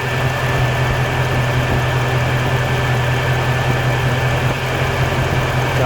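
The electric radiator cooling fans on a Lexus LS400, wired through newly installed relays, blow with a loud, steady, even whooshing hum that holds constant throughout, with no one speaking.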